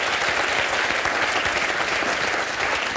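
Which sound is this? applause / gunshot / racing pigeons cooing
applause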